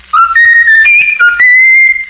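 Raffles, a pet mynah bird, whistles a short tune of clear, pure notes that step up and down in pitch, loud and close, ending on a long held tone.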